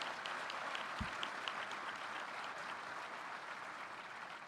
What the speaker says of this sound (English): if we could give all those folks a great round of applause